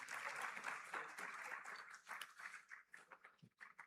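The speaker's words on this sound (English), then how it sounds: "Please, a round of applause for them once again." Audience applause for a panel at the 3i Africa Summit, a dense wash of clapping at full strength that thins into scattered, fading claps over about four seconds.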